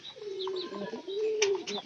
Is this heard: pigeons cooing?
yes